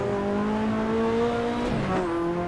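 Ferrari F40 engine in the Assetto Corsa racing game, a steady high drone that shifts pitch as revs rise and fall through a gear change, loud and continuous with no talk.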